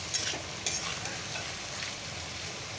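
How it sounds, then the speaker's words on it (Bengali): Potato pieces frying in a pan with onion, garlic, bay leaf, dried chilli and cumin, a steady soft sizzle with a couple of sharp utensil scrapes as they are stirred, close and alone. "আলুটা একটু ভাজা করে নেবো"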